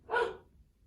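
A single short dog bark, clear and close, with nothing else around it.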